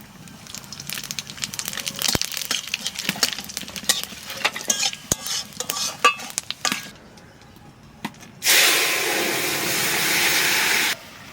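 Cumin and bay leaves are dropped into hot oil in a pan and stirred, with irregular crackles and spoon knocks followed by a loud, steady hiss near the end, close by with no talk.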